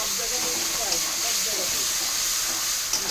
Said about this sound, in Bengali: আমি ঢাকনাটা একটু তুলে নিয়ে মশলাটা আবার একটু নেড়ে নিচ্ছি।